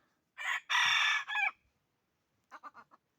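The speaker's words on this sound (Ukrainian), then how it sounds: "Петух." A rooster crows loudly and close by in one long call, followed after a pause by a few short clucking notes.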